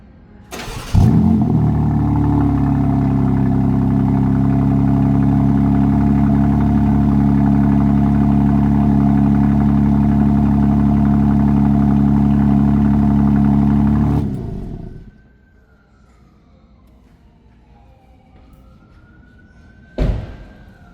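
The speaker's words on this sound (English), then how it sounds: "we're gonna do a cold start in Sport Plus" A 2026 BMW M4 in Sport Plus mode cold-starts with a sharp bark, then holds a loud, steady, deep idle for about thirteen seconds before shutting off, leaving near silence and a brief thump.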